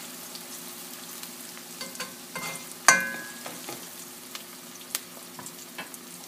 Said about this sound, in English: Now that we've got the onions and the peppers cooking